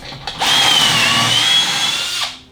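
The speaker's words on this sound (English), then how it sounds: "And then after I've finished drilling all these holes" A power drill bores pocket holes through a Kreg 720 jig: a close, steady high-pitched whine that spins up, holds for nearly two seconds, then winds down.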